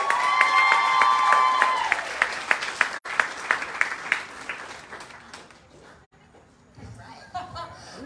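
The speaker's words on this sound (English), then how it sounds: "Let's get a round of applause for our next state representative, Lindsay Powell." Applause and cheering from a crowd at a political event greeting a state representative candidate, loud clapping at first with chatter and laughter, then thinning out into scattered claps and voices.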